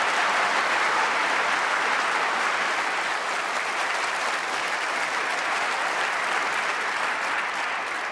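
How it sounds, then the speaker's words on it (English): Snooker crowd at the UK Championship quarter-finals breaks into steady, dense applause that carries across the arena from another table, continuous and fairly loud throughout with no voices over it. "Round of applause from the other table,"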